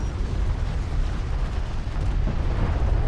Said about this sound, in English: Armored vehicle is taking fire.